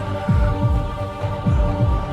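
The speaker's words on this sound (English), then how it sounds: "of course you hear the heartbeat too" Slow, deep heartbeat sound effect from a TV scene, about three double thumps over a low steady hum, heard alone without talk.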